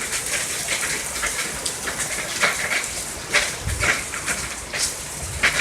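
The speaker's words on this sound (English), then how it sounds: "Hail this big?" Hail pelting down during an Alabama storm, a dense steady patter of hard impacts with sharper louder strikes scattered through, close by and continuous.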